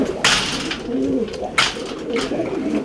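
A yearling racing pigeon cock in a stock loft coos up close, soft low throaty calls repeating over a couple of seconds amid rustling and other birds in the loft.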